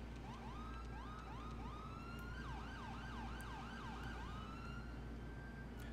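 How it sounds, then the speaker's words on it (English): A wailing ambulance siren in GTA 5 cycles steadily up and down over a constant low engine drone, with a second siren tone layered faintly behind it. "Liking the sirens."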